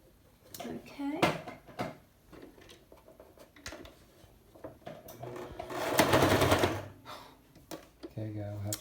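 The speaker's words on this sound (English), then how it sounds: "I'm going to sew around the outside of our mask" Sewing machine stitching a strap onto an up-cycled cloth face mask, with short bursts of needle clatter and one longer whirring run near the end, close up, with a person talking between bursts.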